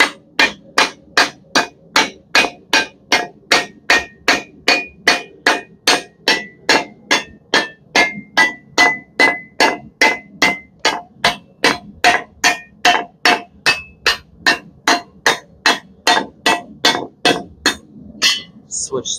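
A hammer beats hot metal to forge a skillet: about forty sharp, ringing blows land in an even rhythm of roughly two per second, close and loud from start to finish.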